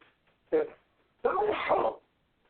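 A short sharp intake followed by a loud, explosive sneeze, close and alone against quiet.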